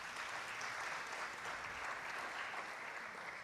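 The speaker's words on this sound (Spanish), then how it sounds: "Un aplauso de bienvenida para todos." Steady, sustained audience applause from a seated crowd welcoming panel speakers at a low-carbon cities forum, even and continuous throughout with no pauses.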